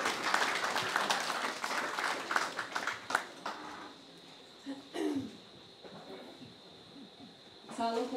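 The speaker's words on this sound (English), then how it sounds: "please give a round of applause for the maid of honor" Applause for the maid of honor at a wedding reception, a crowd clapping steadily and fairly close for about four seconds before fading, with a few brief voices and murmurs afterward.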